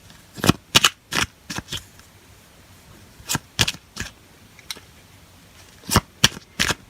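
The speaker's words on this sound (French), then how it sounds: "on va tout de suite prendre une carte, 3 cartes de l'oracle Béline" Oracle cards being shuffled and drawn, a series of short crisp riffling bursts in separate clusters with quiet pauses between, close and alone.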